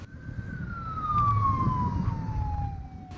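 An ambulance siren wails in Karachi, one long steady tone sliding slowly downward as it passes, heard from a moderate distance over rumbling street traffic.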